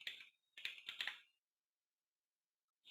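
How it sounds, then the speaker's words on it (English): Brief bursts of quick clicking keystrokes on a computer keyboard, close and clear, a few short runs separated by a pause of silence. "So I go to Notepad and start typing."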